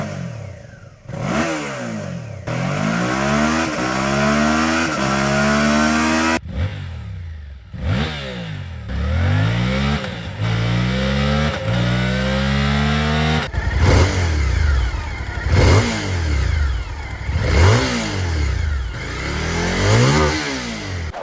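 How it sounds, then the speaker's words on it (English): A Suzuki V-Strom motorcycle with its stock exhaust, 650 or 800, revs up and down repeatedly in loud, close, rising and falling blips, alone with no talk. "the stock exhaust notes are different between the 650 and the 800."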